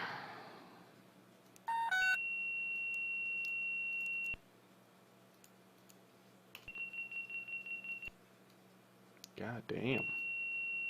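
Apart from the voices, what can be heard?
Bell 407 helicopter warning beeping in X-Plane video game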